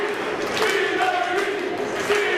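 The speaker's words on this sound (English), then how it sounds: "Listen to this appreciation from this crowd" Ringside crowd at a wrestling tournament match, a steady wash of cheering and voices with a few shouts rising above, dense and continuous throughout.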